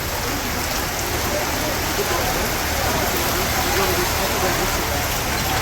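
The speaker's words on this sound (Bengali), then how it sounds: "এই বছরের প্রথম বৃষ্টি আজকে শুরু," The year's first rain falls steadily and heavily on surfaces outdoors in a village, making a loud, continuous patter and wash close by with no pauses.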